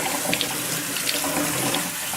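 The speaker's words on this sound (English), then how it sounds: "So rinse the sauerkraut." Tap water runs steadily over sauerkraut being rinsed in a kitchen sink, a continuous close hiss and splash with no talking.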